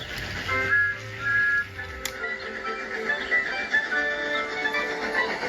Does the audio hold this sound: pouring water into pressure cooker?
no